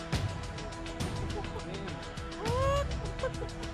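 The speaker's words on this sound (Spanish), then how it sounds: "Uy, empezaron los gallos a darle." Several fowl call out in a busy, overlapping chorus of harsh crowing and gobbling cries, fairly close and loud, with voices talking in the background.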